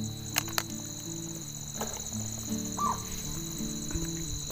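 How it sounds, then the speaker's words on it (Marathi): Birds calling around a village home at dusk while dinner cooks over a wood-fired clay stove, with crow caws and insect chirps against a steady droning hum, some sharp distant calls, no talking. "पक्षी बघ कसे ओरडतात"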